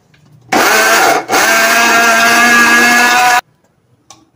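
Electric kitchen blender grinding almonds with a little flour into fine powder, a loud steady whirring roar that briefly dips and restarts, then cuts off abruptly into quiet.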